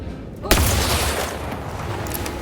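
Force rockets launching in The Outer Worlds 2: after a half-second of quiet, a sudden loud blast gives way to a sustained, roaring whoosh that keeps going to the end.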